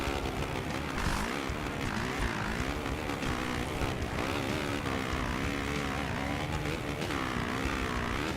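A Husqvarna motorcycle engine runs steadily and loudly throughout, a dense continuous drone with wavering pitch as the revs rise and fall, no voices present.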